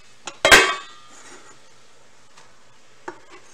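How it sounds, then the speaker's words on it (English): Onions layered into a cooking pot with rice, pork and broccoli: one loud clattering thump with a short rustle, then a few faint clinks and taps, close and alone. "we're going to put another layer of onions on top of that"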